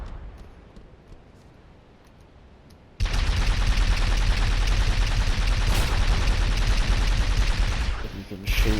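Sustained rapid weapon fire in Halo Reach bursts in after a quiet stretch, loud continuous rattling that runs for several seconds before cutting off.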